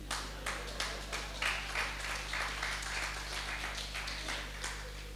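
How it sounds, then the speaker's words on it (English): A church audience claps in a steady, fairly close round of applause that runs throughout, with no talking over it. "Those who understood are clapping"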